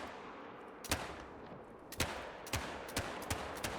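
Rifle shots from an Odin rifle in the hunting game theHunter: Call of the Wild, fired in quick succession at a range: six sharp cracks about half a second apart, fairly faint, with no talk over them.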